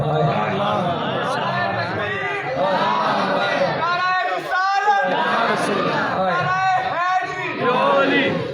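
A large crowd at a religious gathering chants slogans in unison, loud rhythmic massed voices rising in repeated waves, with a speaker's voice heard among them.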